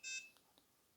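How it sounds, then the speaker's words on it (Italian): A TOOCAA L2 20W laser engraver powers on with a short, high electronic beep at the start, followed by a couple of faint ticks in a quiet room. "Avete notato il cicalino, il suono di accensione?"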